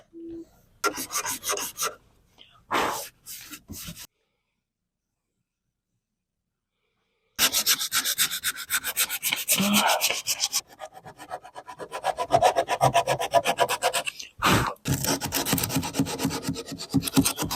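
A wooden piece is rubbed smooth with a rasping scrape in repeated bursts, close and fairly loud, with a long silent gap between early short strokes and later sustained sanding.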